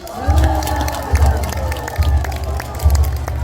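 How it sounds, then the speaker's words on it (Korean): A rally crowd breaks into loud cheering and clapping, shouts rising in several swells over a steady rumbling low hum, with scattered voices calling out across the room. "투쟁의 혼을 가진 사나이 상진 아재 박수 부탁드립니다"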